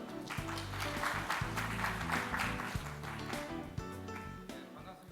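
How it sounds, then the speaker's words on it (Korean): Audience applause at an indoor hydrogen economy lecture in Korea as a speaker is welcomed to the stage, a steady dense wash of clapping with a tonal music bed running underneath. "박수 부탁드립니다."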